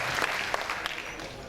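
Seminar audience clapping in a hall during a session on BCS form filling and post selection, a steady diffuse patter of many hands at moderate level with no voices over it.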